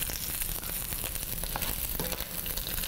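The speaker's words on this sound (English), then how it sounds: "we're gonna use fresh garlic, of course. And so I have that simmering a little bit" Fresh garlic sizzling in a hot pan for turkey fried rice, a dense continuous crackle and hiss with small pops, close and steady throughout, no speech.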